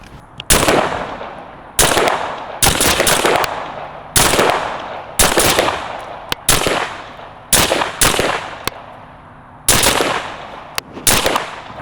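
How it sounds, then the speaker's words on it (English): Pistol rounds fired at an outdoor shooting range in freezing conditions: a steady series of loud, sharp gunshots at irregular intervals, roughly a dozen cracks each with a short decaying tail, close by and with no talk. "5 rounds, line is hot, go ahead"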